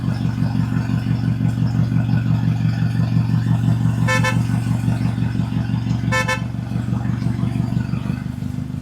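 A heavily loaded truck drives along a road, its engine giving a steady, loud low drone throughout, with two short horn toots near the middle.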